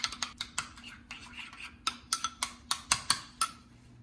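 Feta dressing with added salt being stirred in a bowl, a run of light clinking taps from a utensil against the dish, irregular and close, with no talk.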